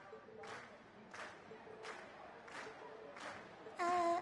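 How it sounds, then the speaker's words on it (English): Concert audience in the Trails of Cold Steel video game cheering in repeated rhythmic bursts, about six regular surges of clapping and shouting, fairly faint, with a louder tonal swell at the end. "And we've heard your cheers loud and clear."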